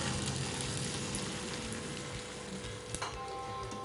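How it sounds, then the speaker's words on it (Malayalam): Egg mixture frying in hot sunflower oil in a pan gives a steady, dense sizzle with a faint crackle, heard close and alone with no voices. "അപ്പോൾ ഇനി ഓയിൽ ചൂടായിട്ട് വരുമ്പോൾ നമുക്ക് ഇതിലോട്ട് ഈ ഒരു മുട്ടയുടെ മിക്സ്ചർ ഒഴിച്ചു കൊടുക്കാം"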